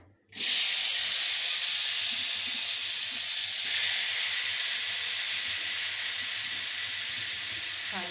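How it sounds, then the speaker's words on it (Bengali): Steam hisses steadily and loudly from a pot of bottle gourd being boiled, starting abruptly and holding as a continuous close rush that eases only slightly over several seconds. "লাউটা একটু সিদ্ধ করে নিচ্ছি।"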